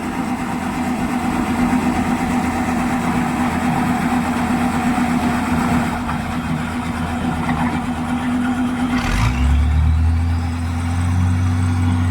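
A Hitachi excavator's engine runs steadily and loud at close range with a low idling drone while unloading a truck, its pitch deepening near the end as the machine works harder.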